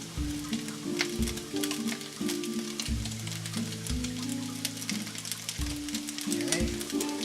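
Onion sizzling in a hot pan for steak fajitas, a loud continuous crackling fry with spattering pops, over a background of low music, no talk.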